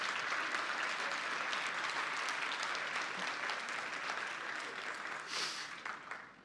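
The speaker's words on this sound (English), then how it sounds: "Can we have a huge round of applause across all of our tracks for everyone?" An audience at a conference closing session applauds, a dense and steady wash of clapping from a large room that continues for several seconds. It tapers slightly toward the end, with a brief brighter burst near the close.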